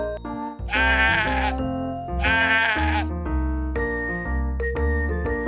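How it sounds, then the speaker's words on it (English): A sheep bleats twice in loud, drawn-out calls separated by a short pause, with gentle music playing throughout. "It's a sheep."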